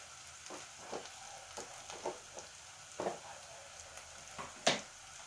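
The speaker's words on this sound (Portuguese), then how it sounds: "agora que já deu uma fritada aqui na cebola e no alho" Onion and garlic frying in a pan, a quiet steady sizzle broken by several soft stirring scrapes and clinks of a utensil against the pan.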